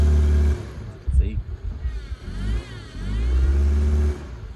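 A car stuck in soft desert sand revs in loud surging bursts as its tires spin, the engine rising and falling several times while people talk over it.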